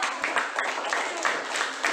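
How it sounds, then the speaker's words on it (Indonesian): Schoolchildren in a classroom clap for a classmate, a steady patter of many hands in quick uneven bursts over two seconds, with faint voices underneath. "Tepuk tangan buat Rihana"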